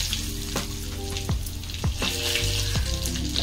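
Curry leaves crackle and hiss in hot oil with mustard seeds, cumin and asafoetida, a loud, close, continuous sizzle punctuated by sharp popping spits every half second or so.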